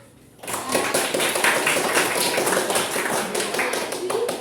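Clapping hands in a classroom during a Quran and Hadith lesson, a steady burst of many hands clapping after a short quiet start and continuing at an even loudness throughout.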